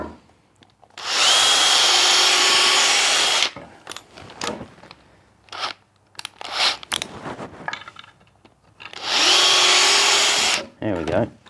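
A power drill drives screws into a wet wooden wall batten: two long loud whirring runs at the start and end, with short knocks, handling noises and brief speech between them.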